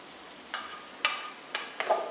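Onions and pumpkin in hot oil give a soft, quiet sizzle, broken by four sharp clicks of utensil against the pan, spaced about half a second apart.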